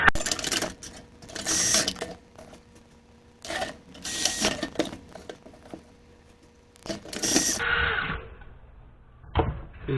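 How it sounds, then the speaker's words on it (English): A power driver sets screws into tin panels for a Case IH 8240 combine firestop, with repeated short, loud whirring bursts split by quiet gaps and one final brief run near the end. "This is one where I'm going to put a screw through from the inside of the kit to the outside right here."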